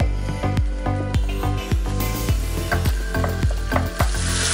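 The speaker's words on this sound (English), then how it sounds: "we're now going to put in our onions. We're going to cook these on the same heat, medium to high heat" Onions fry in a pan over medium-high heat with a loud, close sizzle, broken by repeated rhythmic clacks and scrapes of a utensil stirring them, with no voices.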